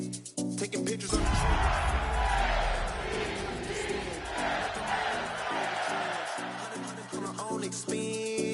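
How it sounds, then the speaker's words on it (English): A sellout football crowd roars at Paycor Stadium in Cincinnati for a Bengals–Ravens game, a dense, loud, sustained wall of cheering and yelling that swells after the first second, with stadium music pulsing beneath. "sellout crowd has arrived at Paycor Stadium in Cincinnati"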